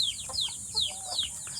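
Native chickens pecking at feed in a low-cost backyard coop, with chicks among them, giving soft repeated high chirps and short clucks in quick succession, fairly close but quiet.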